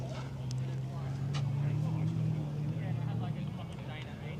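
A fat-sounding diesel off-road race car engine rumbles steadily at close range, a deep low drone holding throughout with faint higher noise above.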